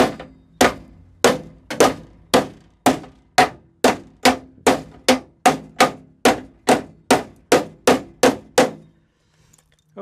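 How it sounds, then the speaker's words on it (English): A metal hammer strikes hard again and again, about eighteen loud, sharp blows at a steady pace, close by, with no talking. "or use a metal hammer"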